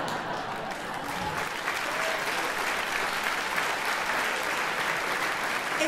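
An audience applauding a comedian's story, a sustained, even round of clapping from a large crowd that holds steady without anyone speaking.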